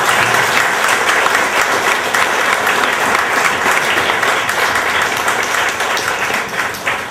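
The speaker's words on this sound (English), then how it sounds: "let's have a round of applause for our panelists" An audience claps for a panel of speakers, a loud, dense, sustained wash of applause from a full room that stays strong for about seven seconds before easing slightly at the end.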